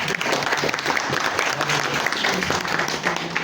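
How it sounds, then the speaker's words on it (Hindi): Audience at a library open mic in Pithoragarh claps vigorously in a dense, continuous round of applause, close and loud, with a few voices faintly underneath. "एक बार जोरदार तालियां"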